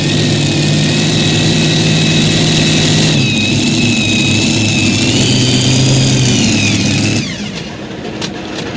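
A Super B class pulling tractor weighing about 6,200 pounds revs hard at a tractor pull in Benson, North Carolina, a loud sustained engine roar with shifting pitch that drops off near the end.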